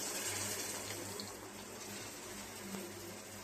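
Tamarind water is poured into a pan on the stove, a soft continuous liquid trickle and splash heard faintly and steadily.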